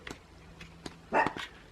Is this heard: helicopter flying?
no